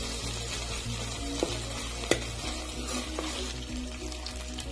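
Ginger-garlic paste fries in a pan with a soft, even sizzle and a low background hum, broken by a couple of sharp utensil taps.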